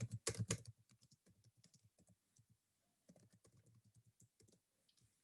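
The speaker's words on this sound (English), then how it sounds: "right here, question, you can type your question" Close, quiet typing on a computer keyboard, a quick burst of clacking keys followed by irregular lighter taps with short pauses, and no talking.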